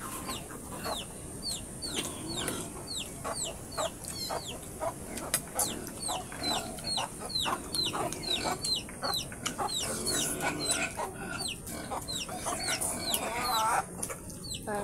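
Chickens cluck over and over, near and fairly loud, in a busy outdoor farmyard with a steady background murmur and an occasional sharper squawk.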